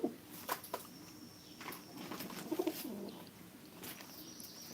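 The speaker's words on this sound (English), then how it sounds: "Oh, there's a couple birds. 2 of them are about to fight. 2 males. See them there making their noise." Two male birds coo and call back and forth before a fight, close by outdoors, with repeated short bursts and a faint flutter of wings over steady background noise.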